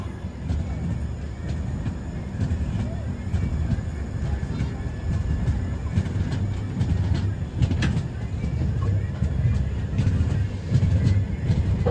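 A train rumbles steadily along the rails toward Jammu Tawi station, with low continuous roar, rattling carriages and occasional clicks and faint squeals, heard from inside.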